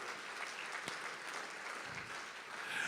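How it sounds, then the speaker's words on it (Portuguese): Church congregation applauding during a sermon, a steady sustained wash of clapping from a crowd that swells slightly toward the end. "Agora, pode aplaudir a Jesus"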